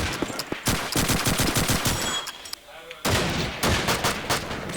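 Rapid bursts of automatic gunfire crackle through a competitive first-person shooter match, loud and near, with dense volleys, a short lull, then more fire.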